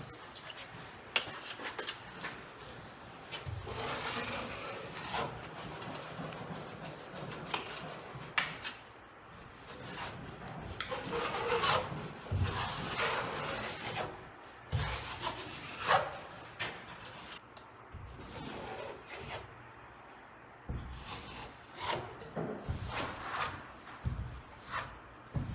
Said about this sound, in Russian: Наносится легко. Звук такой не режущий. Это именно за счет штукатурки.